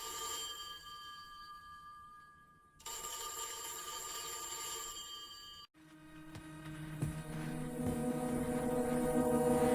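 A telephone rings after a church's number is dialed, a steady repeating tone over a low background hum, with no voices heard.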